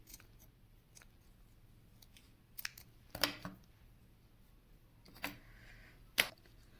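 Scissors snipping extra woolen thread on a crocheted doll dress, making a few sharp, quiet clicks and snips with pauses between them, close up and with no voices.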